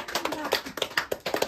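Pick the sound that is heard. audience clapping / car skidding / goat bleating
audience clapping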